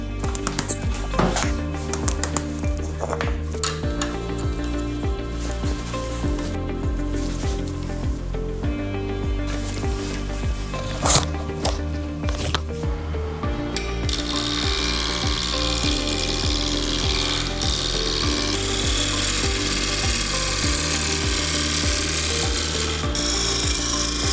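A timber blank about 150mm across spins between centres on a wood lathe while being turned for an Easter egg box, giving a steady continuous rasping, scraping cut with a constant machine hum throughout.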